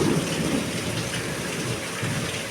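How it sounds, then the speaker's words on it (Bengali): Heavy rain pours steadily during a storm with lightning, joined by low rumbling thunder, loud and continuous with no voices. "বৃষ্টি হচ্ছে, মেঘ গুড়গুড় করছে"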